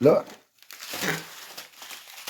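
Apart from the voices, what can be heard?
opening the box of an X-Shot gel blaster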